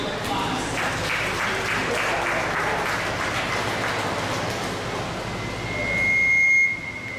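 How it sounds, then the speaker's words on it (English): Applause for exhibitors at a 4-H/FFA rabbit show fills a livestock show hall with steady clapping from a crowd, swelling briefly near the end before a buzzer-like tone cuts in. "Let's give these exhibitors a round of applause."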